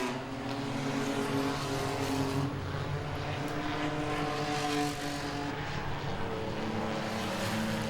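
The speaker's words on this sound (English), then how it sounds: "Rosie Pavlik, she goes a lap down as the 3 goes by." Race cars in a nighttime enduro at Langley Speedway roar past on the track, a continuous layered engine drone with rising and falling passes, heard from a moderate distance without talk.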